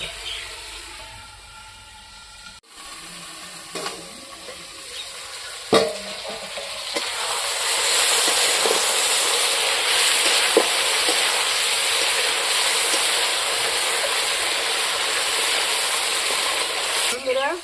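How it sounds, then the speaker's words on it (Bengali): Goat mutton fries in hot oil for a Bengali curry, a few clatters and scrapes giving way to a loud, steady sizzle that fills the rest, with occasional stirring knocks and no talk. "দেখুন ভাজা ভাজা হয়ে গেছে কত সুন্দর ভাজা ভাজা আছে"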